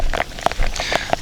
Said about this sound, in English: It's coming down pretty hard now. You can probably hear in the mic and just see how much rain is coming down.